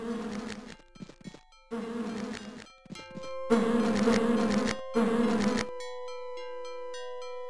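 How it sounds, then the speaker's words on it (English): Bees buzz in the DOS fantasy role-playing game Lands of Lore: The Throne of Chaos, a dense droning swarm in loud bursts with short gaps, then a sustained tonal game melody. "Why do I hear so many bees?"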